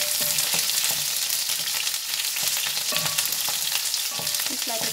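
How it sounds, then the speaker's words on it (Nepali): Chopped onion frying in hot oil in a pan for a pasta dish, a dense close sizzle with occasional stirring scrapes and pops, steady and loud with no talking. "अब यो तेल चाहिँ गरम भइसकेको छ। अब चाहिँ मैले यसमा काटेर राखेको प्याज राख्न गइरहेको छु।"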